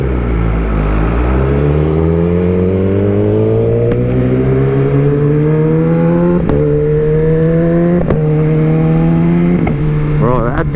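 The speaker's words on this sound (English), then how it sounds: "It sounds so good with that spark exhaust. The backfiring is insane." A BMW M1000RR superbike with a Spark exhaust revs and pulls through rising gears, a loud, close engine note climbing steadily, punctuated by several sharp backfire pops and crackles.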